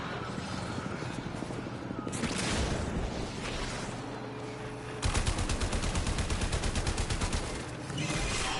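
Bursts of gunfire from the game Warframe, with a dense rapid-fire stretch rattling in the second half, loud and close over a busy game soundscape.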